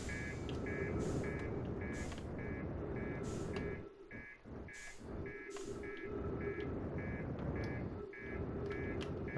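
A spaceship in the video game Outer Wilds gives off a regular, repeating electronic beep alarm at a steady pulse over a continuous low rumble of the craft. A few brighter chirps and whooshes break in partway through.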